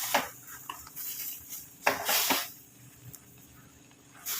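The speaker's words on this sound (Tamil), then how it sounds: "ஒரு இந்த மாதிரி மத்து எடுத்துக்கோங்க. இதை வச்சு நல்லா நம்ம ப்ரெஸ் பண்ணி விட்டுக்கோங்க" Boiling grapes are pressed in a pot with a wooden masher, producing irregular knocks, clatters and squelchy pushes against the pot, close and unaccompanied by talk.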